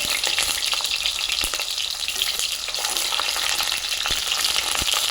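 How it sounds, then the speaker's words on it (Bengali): Eggplant frying in hot mustard oil for a Bengali prawn, spinach and eggplant curry, a loud continuous crackling sizzle close up with a few sharper pops, no voices. "তেলটা গরম হয়ে গেছে, এই যে বেগুন দিয়ে দেব আগে তেলে"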